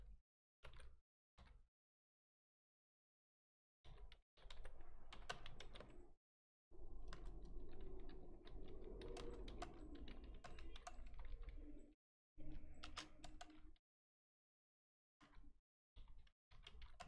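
Keystrokes on a computer keyboard during an office software exercise, coming in irregular bursts of quick typing separated by silent pauses, close and fairly quiet.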